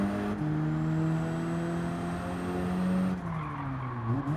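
Race car engine launches and pulls hard on a track, a loud rising engine drone with a brief gear change near the end, tires squealing faintly as it accelerates.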